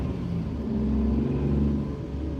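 A car's engine rumbles steadily from inside the cabin as it drives through New York, the low drone swelling slightly as it picks up speed, with no voices.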